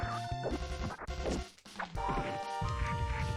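Throw attack in the SNES fighting game Dead Dance, with sharp smash and whack impacts over busy game music and effects, several hits landing in quick succession.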